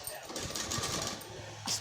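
A sewing machine stitches the back neck of a blouse with a close, rapid mechanical chatter, and a voice talks over it.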